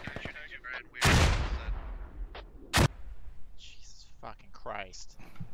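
Grenade explosions in the military shooter Squad, with two sharp, loud blasts about two seconds apart and scattered battle noise around them, mixed with voices talking over the action.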